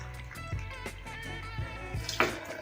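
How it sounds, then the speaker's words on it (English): Water is poured from a glass into a pot of rice, a short series of splashy pours and drips with a brighter splash near the end, close and fairly quiet. "I'm going to be adding 2 glasses of water."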